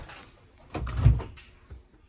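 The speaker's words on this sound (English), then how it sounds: "And the door shuts all the way, opens up" A door at the entrance to an indoor grow room is opened and shut, giving a few close knocks and thumps with a faint latch click at the end, with no talking.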